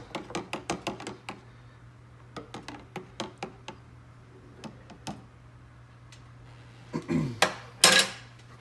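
Rapid metallic ticking of a utensil stirring RIT dye in a container, quick regular taps that slow and thin out, followed by a couple of louder scraping clatters close by.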